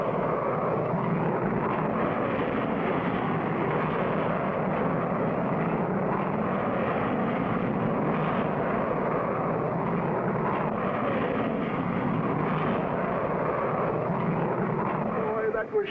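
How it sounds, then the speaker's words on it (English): Steady, loud roar of an airplane taking off in a 1959 animated cartoon, a continuous broad engine rumble holding level for the whole stretch with no break. "Boy, that was some takeoff."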